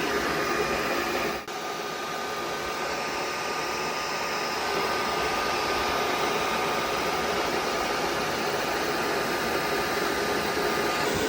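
Continuous loud blowing of cold air from a Tineco S7 Pro vacuum mop drying itself, a steady whooshing hum with a brief dip near the start, then unbroken.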